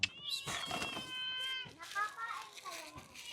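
A stray cat meows on the street while being fed, several drawn-out, wavering cries close by, with people talking quietly around it.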